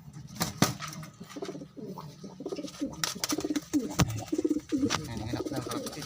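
Pigeons coo close by in soft, repeated throaty rolls, several overlapping calls with a few sharper clicks and rustles mixed in.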